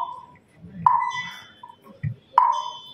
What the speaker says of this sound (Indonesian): Mungkin ada suara itu mungkin dikecilkan atau dimatikan, itu HP ya, suara HP itu di sana.